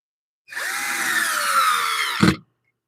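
Power drill driving a screw into wood at a woodturning bench, one continuous whirring burst of about two seconds with a slight pitch sweep, ending in a short thump, close and alone.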